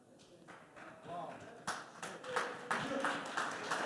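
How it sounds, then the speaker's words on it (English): Scattered clapping-like taps and knocks sound from a wall indoors, a quiet irregular patter that builds and grows louder over a few seconds, with faint background murmur. "The wall is applauding me"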